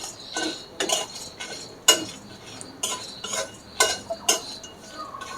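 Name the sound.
whole spices dry-roasted and stirred in a wok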